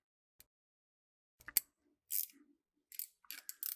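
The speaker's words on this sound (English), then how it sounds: "Take your wrench." A wrench tightens the clamping block of a TITAN on-car brake line double flaring tool, giving a few sparse metallic clicks and ratcheting scrapes separated by silence.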